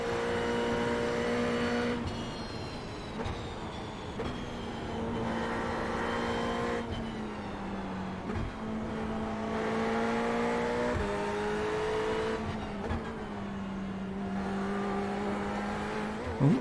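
Ferrari GT3 race car engine in iRacing on the Nürburgring, droning steadily with shifting pitch as it accelerates, lifts and changes gear, close and continuous throughout.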